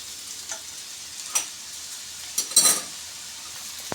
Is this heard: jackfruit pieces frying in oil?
yes